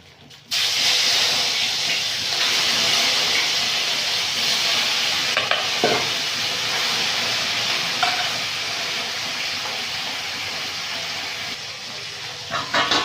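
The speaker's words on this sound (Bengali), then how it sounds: "টকের মাছটা ভাজা হয়ে গেছে" Sarputi fish frying in hot oil in a village kitchen, a loud steady sizzle and hiss that starts abruptly and runs unbroken, with a few faint clinks.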